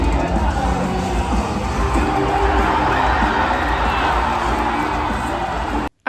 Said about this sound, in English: So when the symphony shows Maria's implied death, the fans cheer.